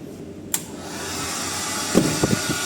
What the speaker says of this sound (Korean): 근데 헤어드라이기가 작동하지 않습니다